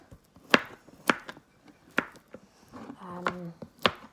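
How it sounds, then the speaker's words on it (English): Knife chopping firm cacao butter on a cutting board for homemade body butter, five or six sharp, close knocks spaced irregularly, with a brief scraping rustle near the end and no talk. "Chop it all up."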